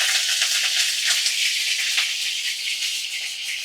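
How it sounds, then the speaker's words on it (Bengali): Catla fish head frying in mustard oil over a medium flame, giving a steady close hiss and crackle of sizzling oil that runs evenly throughout with slight fluctuations. "আমি মাছের মাথা ভেজে নিচ্ছি। তো এটা কাতলা মাছের মাথা।"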